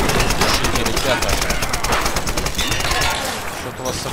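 Rapid automatic gunfire in the video game Tomb Raider (2013), loud and continuous bursts filling the scene, with a player talking over the shooting.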